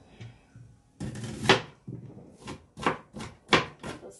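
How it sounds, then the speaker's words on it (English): Onions being sliced with a knife for a New Year's Eve meal, a series of sharp cutting strokes, some clustered and some spaced, close and fairly loud, with no talking. "I'm actually slicing onions."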